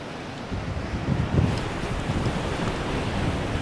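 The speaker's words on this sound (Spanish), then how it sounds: "Qué belleza el mar Mediterráneo." Mediterranean Sea waves wash along the coast of Israel, a steady rushing surf mixed with wind buffeting the microphone, with no voices.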